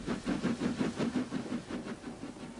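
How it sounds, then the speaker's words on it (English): A tractor engine chugs at work in rural fields, an even, repetitive pulsing beat of roughly four chugs per second, moderately loud and steady without voices. "he heard the chug, chug, chug of a tractor at work"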